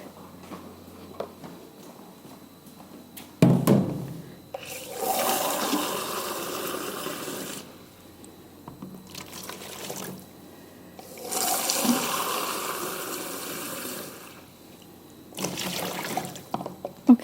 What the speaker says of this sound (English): So I'm going to get 2 of these full of water into my bucket.